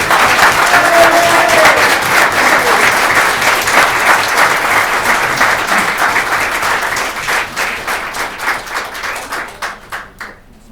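Sustained applause from the audience at a county council meeting, dense and steady clapping that gradually thins and fades out toward the end.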